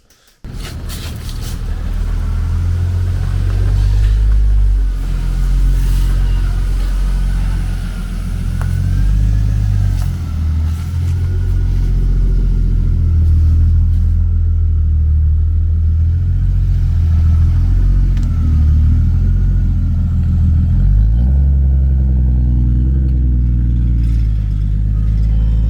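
Turbocharged BMW E36 drift car engine running close by, a deep rumbling idle with throaty low revving and some blips, loud and continuous with no talk.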